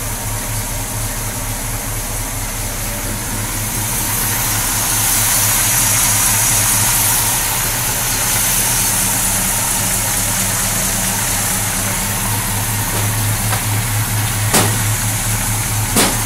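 An old Chevy truck engine idling steadily up close, a loud continuous low rumble with an even throbbing pulse and a faint higher whine, running alone without talk.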